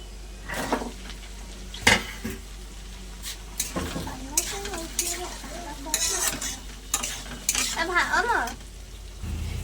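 Vegetables and potatoes for prawn and taro stolon curry sizzle in a pan while a utensil scrapes and clinks against it in irregular strokes; a voice talks intermittently over the cooking.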